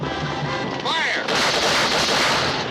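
A battle in a western film erupts in heavy, continuous gunfire, a dense volley of loud shots that follows a shouted command and keeps crackling on through the fight.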